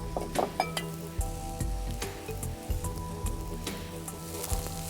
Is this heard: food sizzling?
yes